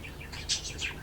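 A budgerigar chick gives a quick run of faint, high chirps close by in a breeding box, several short squeaky notes over a soft background hum.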